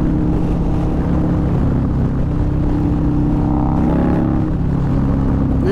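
A Nightrod motorcycle engine drones steadily while cruising, a loud continuous low rumble with wind noise and no break for the whole stretch.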